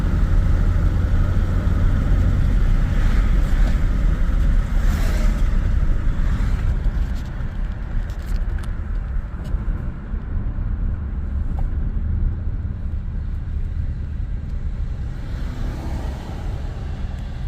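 A 1996 Chevrolet S10 pickup with a 4.3 engine and Holley Sniper fuel injection cruises along under light throttle, its steady engine drone and road rumble loud and continuous, easing slightly partway through.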